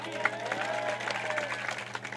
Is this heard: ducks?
no